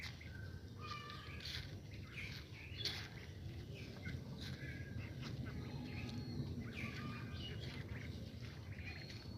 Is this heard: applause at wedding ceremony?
no